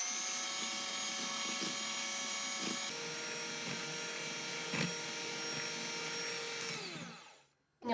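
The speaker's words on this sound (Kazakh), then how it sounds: "Оның үстіне қантымызды салып, миксердің көмегімен қантымыз ерігенше шамалы қойылғанға араластырамыз" An electric mixer beats sugar into a cake mixture, a steady whirring motor hum with a brief pitch change partway, a few knocks of the beaters against the bowl, then a quick cut to silence.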